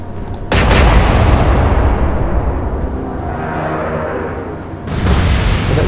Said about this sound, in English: Open fire. Shoot!